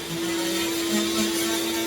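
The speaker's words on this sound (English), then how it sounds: "while Zach uses the vibrating blade to cut through the drywall" A continuous high buzzing whine of an oscillating multi-tool's vibrating blade cutting steadily through drywall, fairly close and loud.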